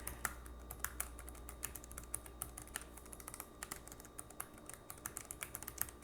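Fingers type steadily on a quiet mechanical-switch keyboard, with soft, even clicks and an occasional slightly heavier keystroke. The sound is close but faint, with no voices.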